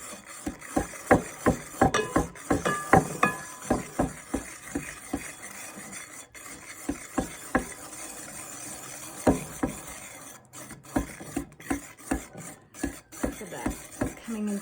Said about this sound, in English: then we're just gonna whisk this in together beautifully